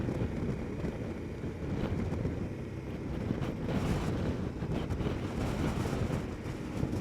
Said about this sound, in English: there's some pretty gusty, strong winds now